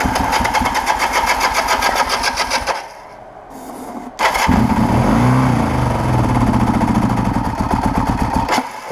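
A 1980 Kawasaki KZ LTD440 motorcycle engine with the choke on cranks, catches and runs close and loud. It dips briefly to a low idle, then picks back up into a steady, rough idle.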